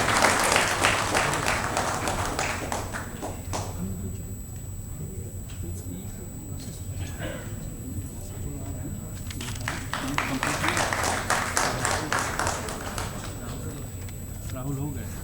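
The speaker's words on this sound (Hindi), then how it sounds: "आप ताली बजाते रहिए" An audience claps steadily through an award ceremony, with sustained applause rising and falling and voices talking over it.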